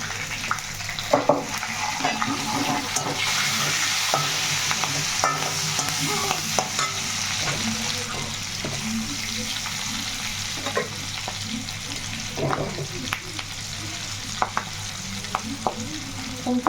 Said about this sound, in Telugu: ఇప్పుడైతే మనం పచ్చిమిర్చి వేసుకుందాము